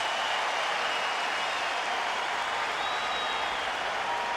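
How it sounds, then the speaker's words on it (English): A ballpark crowd at a Yankees at Red Sox game gives a standing ovation, a dense, sustained wash of clapping and cheering that holds steady throughout with no voices standing out above it. "now doffing his helmet to the crowd as they give him a nice standing ovation"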